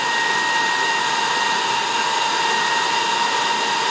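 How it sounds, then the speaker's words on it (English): A Dreame T30 cordless vacuum cleaner runs in its low-speed Eco mode, giving a steady, close, continuous motor whine with an even airy hiss and a sustained high tone, with no pauses or talking. "Dreame T30 has the lowest motor speed in the Eco mode."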